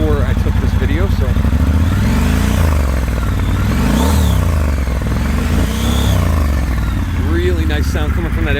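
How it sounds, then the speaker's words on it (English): A 2019 Triumph Scrambler 1200 XE with an aftermarket exhaust runs close by, a steady throbbing idle that rises in a few revs and settles again, with someone talking over it. "Really nice sound coming from that aero exhaust."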